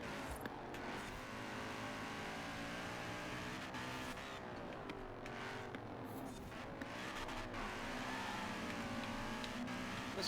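A Porsche GTE race car engine in the Forza Horizon 4 video game, holding a loud, steady, high-revving drone with rising and falling pitch through gear changes, continuous and up close, with no talk.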